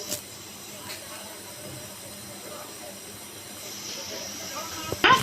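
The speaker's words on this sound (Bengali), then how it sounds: "তেলটা আমার গরম হয়ে গেছে। এই পর্যায়ে আমি এই চামচটাকে তেলের মধ্যে চুবিয়ে দিলাম" Spoonful of flour batter for a banana snack lowered into hot oil, giving a low, steady sizzling hiss that swells slightly near the end before a sharp clatter at the close.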